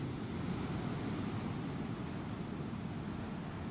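Ocean waves wash onto a beach at high tide near Lion Rock in southern Tasmania, a continuous broad roar of surf, steady and fairly loud with no talk.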